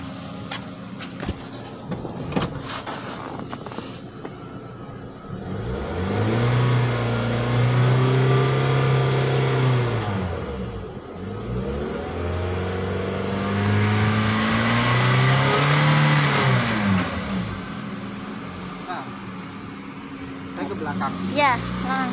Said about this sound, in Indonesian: geber gasnya, Mbak.